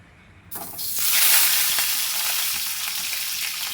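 Peanuts roasting in a pan for village-style chutney start to sizzle and hiss at about half a second, swelling quickly into a steady, bright frying sound with occasional stirring, close and without talk.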